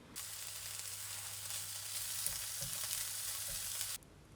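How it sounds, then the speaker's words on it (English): Spring onion whites, grated ginger and garlic sauteing in a pan give a steady, close broadband sizzle that grows a little louder midway, with faint stirring knocks, then cuts off abruptly near the end. "we'll start by sauteing the white parts of some spring onion and then adding some grated ginger and"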